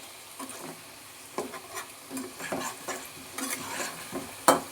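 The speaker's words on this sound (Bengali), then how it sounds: "এবার তেলের ওপর এটা একটু নাড়াচাড়া করে নেব।" Whole cardamom pods, cloves, a cinnamon stick and a chili stirred in hot oil for a goat meat curry, giving soft sizzling with a spoon scraping the pan in irregular strokes and one sharper clink near the end, close by and without talk.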